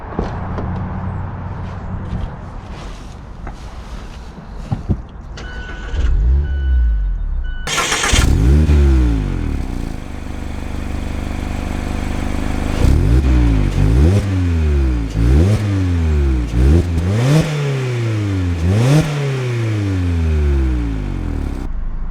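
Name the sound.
2021 Mazda Miata RF Club car driving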